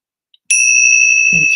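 A small ringing bell struck once in a ritual to clear energy on a Navratri night: a sharp strike followed by a long, steady, pure tone that rings on alone, with a low rustle near the end.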